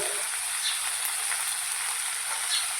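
Turmeric and red chili powder sizzling in hot oil, a steady bright frying hiss close up with faint crackles and no talking.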